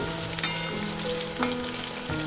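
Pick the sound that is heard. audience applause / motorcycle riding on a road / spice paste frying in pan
spice paste frying in pan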